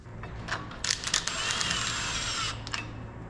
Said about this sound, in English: Now it's just a matter of getting these 4 bolts tightened up right.